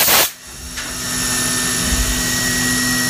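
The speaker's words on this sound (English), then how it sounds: "Just using a little bitty 1/8 center drill." A steady mechanical whine with a high tonal hum runs throughout, a CNC machine spindle running a small 1/8-inch center drill, after a brief loud burst at the start.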